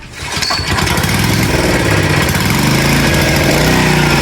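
A small engine fires on the first pull and settles into a loud, steady, rough running note right away, close by with no talk.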